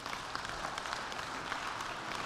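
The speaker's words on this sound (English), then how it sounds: "Let's give him a round of applause." Audience applause after a reading of the Giving Tree story, a steady, even patter of many hands clapping at moderate distance, filling the short stretch with no talk over it.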